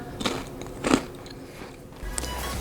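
Crisp homemade cheese crackers crunch up close, two loud bites a moment apart, then a softer crunch, with light chewing in between.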